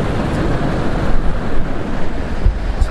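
Ocean waves along the Batanes coast wash in as a continuous rolling surf with gusts of wind buffeting the microphone, loud and close.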